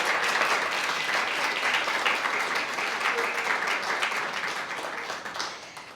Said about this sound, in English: Let's give our writers one last round of applause for their amazing work.